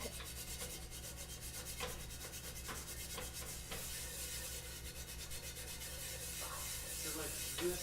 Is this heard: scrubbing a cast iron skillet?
yes